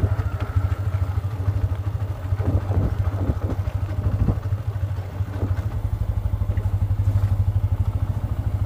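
A motorcycle putters along at close range on the ride home, its engine beating in a steady, loud low throb with occasional clattering thumps over rough ground.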